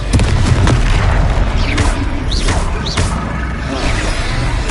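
A Confringo blasting spell explodes in a Harry Potter video game, a loud sustained boom with rumbling crashes and whooshing, filling the whole few seconds without pause.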